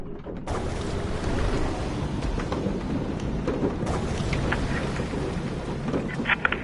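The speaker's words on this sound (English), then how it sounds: "In the heart of the storm." Heavy rain pours steadily through a thunderstorm in the video game A Fisherman's Tale, with deep rolling thunder rumbling throughout and close, loud patters of rain, no voices present.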